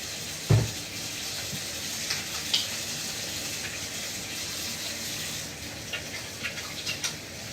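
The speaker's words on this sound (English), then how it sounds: "Wash your damn hands." Hands are washed under a running kitchen tap: a steady soft water hiss follows a single thump at the start, with a few faint splashes near the end and no talking.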